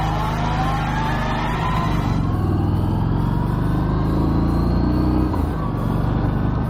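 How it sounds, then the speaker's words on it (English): Harley-Davidson Street 500 motorcycle engine, a budget-built India-made learner bike with stock exhaust, running with a close, steady, buzzing exhaust drone and a slight shift in pitch partway through. "the biggest disappointment with this engine has to be that standard exhaust note. It sounds more like a sewing machine than a regular Harley-Davidson"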